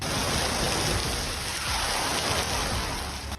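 Dense, steady rain hiss, loud and continuous throughout, with no voices.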